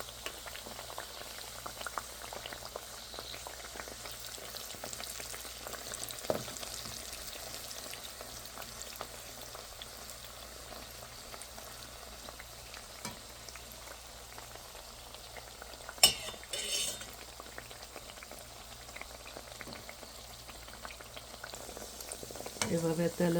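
Padma gaja pastries deep-frying in oil over low heat, a soft steady bubbling and sizzle running throughout, faint and even with an occasional louder crackle.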